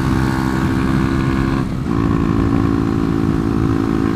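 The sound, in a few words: 125cc motorcycle engine riding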